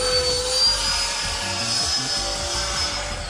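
An RC model fighter jet, an FMS Rafale or Freewing Gripen electric ducted fan, whines steadily overhead at a moderate distance, a sustained high-pitched hum with a rushing airflow undertone.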